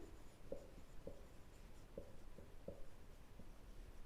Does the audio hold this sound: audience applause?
no